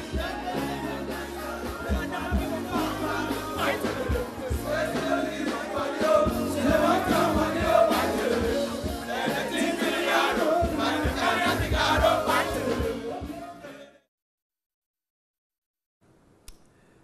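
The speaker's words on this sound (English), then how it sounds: "Very exciting crowd there." An excited crowd fills a VGMA celebration jam in Ghana with dense cheering and live music, loud and continuous for about fourteen seconds before cutting to near silence.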